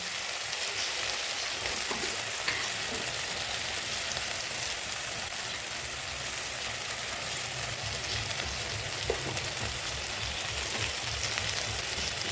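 Tomato and spices fry in a pan for fish-head moong dal, making a constant, even sizzle that runs unbroken for about twelve seconds, near and steady, with no voices.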